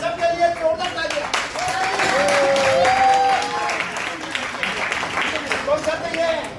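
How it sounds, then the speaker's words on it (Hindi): Audience at a cultural gathering applauds loudly for an honoured guest, steady sustained clapping throughout with a voice speaking over it. "एक बार राजेंद्र जी भाई साहब के लिए जोरदार तालियां।"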